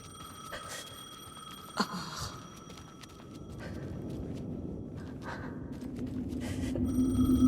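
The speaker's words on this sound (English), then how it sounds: "The phone again." A telephone rings in the video game Alan Wake 2, a repeating bell-like ring heard amid ambient game sound and footsteps, with a sharp knock partway through and a rising rumble toward the end.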